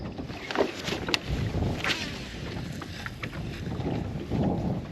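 Wind gusting across an open lake on a bass fishing outing, a steady rough rush buffeting the microphone with a few faint knocks and thuds, no talk.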